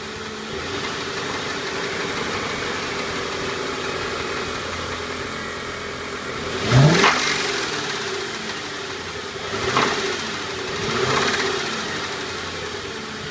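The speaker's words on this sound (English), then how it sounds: "I'll hit the gas and maybe you guys can hear that acceleration issue I was talking about." A Mercury Grand Marquis engine idles steadily, then rises in several brief revving surges, the acceleration sounding strained and labored before settling back each time, close and fairly loud with no talk.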